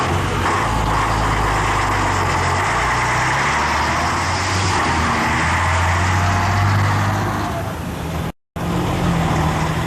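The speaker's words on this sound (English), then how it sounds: "the trucks are noisy, modern and effective" Heavy concert tour trucks for a rock band's equipment idle together at night, a loud, constant low engine rumble with a brief cut near the end.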